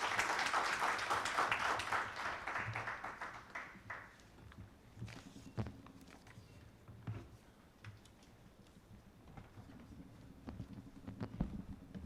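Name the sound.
applause for a conference presenter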